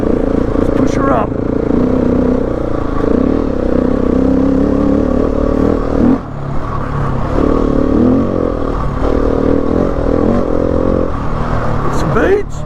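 A Husqvarna 701 Enduro motorcycle accelerates in second gear, its steady engine drone rising and falling over nearly thirteen seconds, close and loud under wind rush, with a brief dip midway and a climbing rev near the end.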